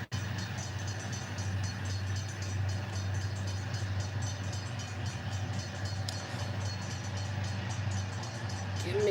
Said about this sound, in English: A load of northbound passing under Interstate 70 near Springfield is arriving at the south end of the yard.